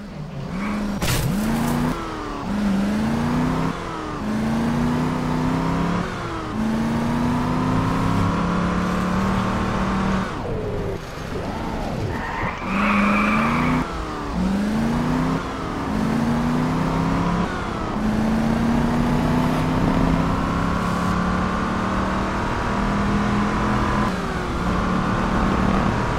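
A stolen car in Just Cause 2 roars as its engine revs through repeated gear shifts, each rising whine dropping back and climbing again, with a brief skid mid-drive, loud and continuous throughout.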